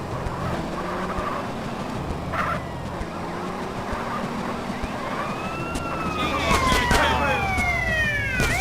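In GTA San Andreas, an ambulance siren wails with rising and falling sweeps over engine noise and tire skids, growing louder toward the end with sharp screeches layered in.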